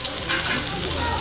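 Pork belly sizzles on a hot stone griddle, a close, dense crackling hiss that holds steady for a brief moment.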